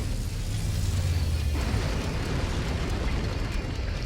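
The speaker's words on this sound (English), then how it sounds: "So we just gotta demolish this base. I like these, so yeah, we're just gonna shoot it." Heavy mech fire and demolition of an enemy base in Mechwarrior 5: Mercenaries, a dense low rumbling roar of blasts and debris that holds steady and loud throughout with no talk.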